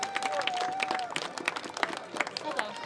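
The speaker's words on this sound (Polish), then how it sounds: "Wielkie brawa dla niej!" Audience clapping and crowd noise at a women's combat fight tournament, rising for fighter Maja Olczak after the referees' decision, mixed with an announcer's voice and a sustained whistle-like tone early on.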